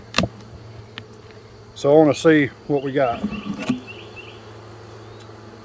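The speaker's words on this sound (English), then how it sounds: "we've got bees all the way up to the top" Honey bees buzz steadily around a hive in a nuc yard, a close, continuous insect drone, while someone speaks briefly over it.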